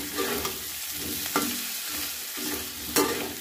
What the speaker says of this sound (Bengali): আলুটা নাড়তে নাড়তে দেখো কষাতে ভাজতে ভাজতেই আলুটা একদম সেদ্ধ হয়ে যাবে